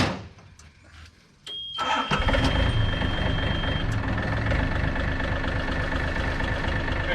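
Yanmar B37 mini excavator engine cranks briefly after a quiet start, then catches and settles into a loud, steady diesel idle close by, with no talking.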